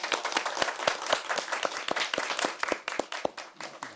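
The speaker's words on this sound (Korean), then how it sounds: "선생님 위해서 박수 한번 합시다." Audience applause for a lecturer at a life talk show, dense and steady clapping from a live crowd filling the whole stretch, with no one speaking over it.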